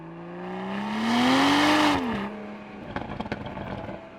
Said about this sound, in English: The stock exhaust for this car actually already sounds pretty damn good.